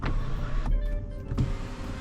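A steady electric sunroof motor whirs inside a 2023 Ram 1500 Laramie as the sunroof tilts open, pausing briefly midway before whirring on again, close and fairly loud.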